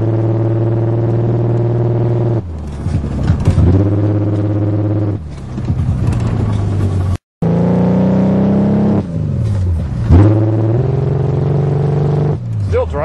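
A 1982 Toyota Cressida sedan driving with a slight misfire, its engine rumbling and rising through gears from inside the cabin, with someone talking over it and a brief dropout midway.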